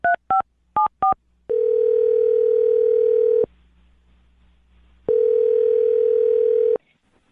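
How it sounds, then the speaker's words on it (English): Four quick touch-tone dialing beeps are followed by two long, steady telephone tones separated by a pause of silence. "I'm going to dial his phone number right now"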